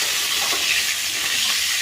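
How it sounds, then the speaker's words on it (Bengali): Tomato frying in a kadai, a dense, steady hiss of sizzling oil with soft bubbling, close and continuous with no voices. "তারপরে কড়াইতে টমেটো দিয়ে দিলাম,"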